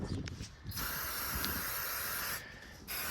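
Aerosol brake cleaner sprayed onto greasy Jeep WJ clips: a loud, steady pressurized hiss lasting about two seconds, cut off sharply, then a brief second burst, with faint handling clatter before it.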